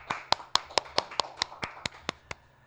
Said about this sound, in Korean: 이럴 땐 박수